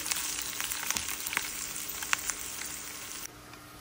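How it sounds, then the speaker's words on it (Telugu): Spice tempering fries in hot ghee for an Andhra-style pepper rasam: a bright, continuous crackling sizzle with scattered pops that suddenly drops away near the end. No one speaks. "ఇప్పుడు తాలింపు వేస్తున్నాను చూడండి."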